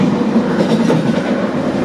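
A London Underground Jubilee line train rolls steadily along the rails between Stanmore and Stratford, a loud, continuous rumble with faint clickety-clack from the wheels and no voices.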